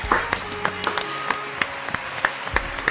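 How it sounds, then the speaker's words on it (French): Audience applause and clapping at a French game-show style event, a burst of sharp, irregular claps from a small group, close and fairly loud, with a few faint voices mixed in. "On applaudit, on applaudit."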